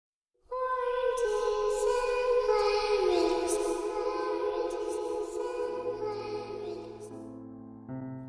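Children's voices chant in unison over eerie sustained tones, the opening of the film It, close and clear, with a lower held drone entering near the end.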